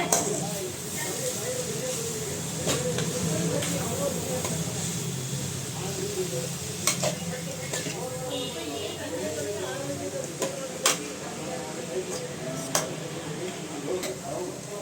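Momo filling is mixed with chopped coriander, a close run of soft wet stirring, scraping and ticking clicks from a spoon against the bowl, under a person talking throughout.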